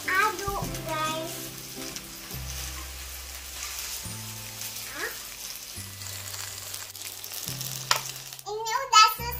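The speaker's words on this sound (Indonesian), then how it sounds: "Lalu diaduk-aduk" Nasi goreng made with vegetable scraps sizzling in a pan while being stirred, with steady frying hiss and scraping under a low music bed, close and moderately loud, with brief bright clatter near the end.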